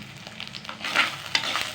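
Chopped onion sautéing in hot sesame oil for a crab gravy, a soft steady sizzle broken by brief stirring scrapes, close and fairly quiet with no voices.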